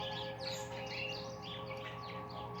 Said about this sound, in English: Y'all hear the birds, they vibrating